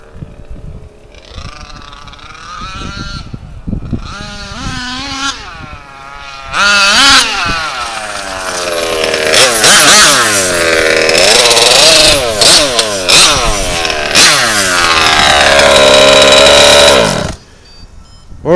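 An HPI Baja RC car with an RCMAX 90 gas engine and a lightened clutch revs hard and close, starting with short blips and then climbing into long, loud, rising and falling screams before cutting off abruptly.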